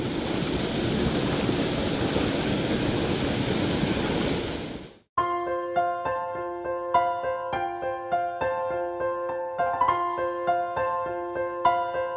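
Steady rushing water from a small pond-type waterfall in East Goa roars for about five seconds, then cuts abruptly to light plucked music.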